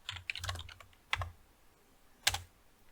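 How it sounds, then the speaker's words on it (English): Close computer keyboard typing in quick irregular bursts of clicking keystrokes, with a brief pause and then a final short flurry, with no talking. "And then we can type out host."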